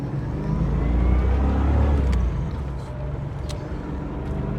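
A 1986 Chevrolet Corvette with 7,000 original miles accelerating through the gears on a farm road, heard from the passenger seat as a loud, steady engine drone that rises, dips briefly at a shift, then pulls again.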